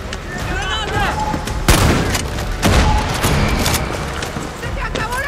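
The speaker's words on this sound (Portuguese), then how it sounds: "Granada!" A grenade blast and rapid gunfire in the video game Far Cry 6, with loud booms and bursts of shots amid a voice shouting.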